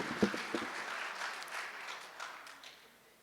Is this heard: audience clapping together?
yes